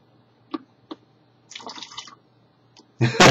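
Pepsi poured into a glass of water: a few separate drips and splashes, a short burbling pour, then a louder, sustained close-up gush of liquid at the end.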